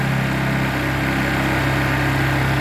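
Two Honda EU22i inverter generators linked in parallel run at a steady, loud drone with an even engine hum and no load changes, close by and without voices.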